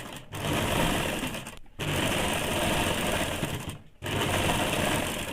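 A sewing machine runs in three long bursts while stitching down a blouse hem strip, loud and close, with short pauses between runs.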